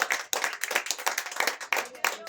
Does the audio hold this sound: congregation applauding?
yes